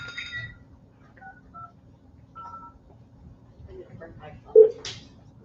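Telephone keypad tones sound in short spaced beeps while joining a conference call, faint and close over a quiet room, with a voice murmuring near the end.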